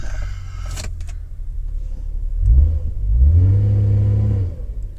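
Engine of a 2000 Honda car with a transmission fault revs when given gas, a brief mechanical whir followed by two rising, sustained engine surges close by; no speech.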